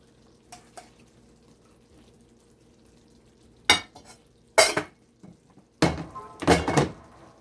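Beef and broccoli stir fry spooned onto a bed of rice: a few short, scattered scrapes and soft plops of food and utensil against a plate, separated by quiet gaps.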